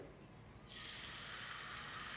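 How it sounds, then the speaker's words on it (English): Palm oil is poured into a pot heating on medium to low heat, heard as a quiet hiss that suddenly swells into a steady, bright pouring rush that continues to the end. "I'm just going to open that up and then pour all of the oil"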